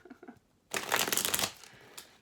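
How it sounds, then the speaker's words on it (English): A deck of tarot cards is riffled in one quick shuffle, a dense crisp burst of flicking cards lasting under a second, close and loud, between quiet moments. "Let's do a quick shuffle."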